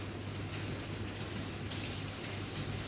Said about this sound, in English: Oh my gosh, it's raining.